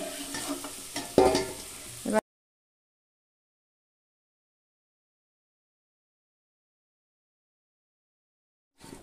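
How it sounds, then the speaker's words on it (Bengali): Potatoes fry and get stirred in hot oil over high heat while a mutton curry is being made, giving a brief close sizzle with stirring scrapes that cuts to silence after about two seconds. "আলুটাকে ভাজার সময় অবশ্যই হাই হিটে ভাজতে হবে।"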